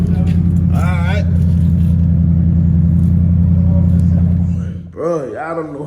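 Chevrolet Trailblazer SS truck driving, a steady low engine rumble that stays loud and close before easing off near the end, with people talking over it.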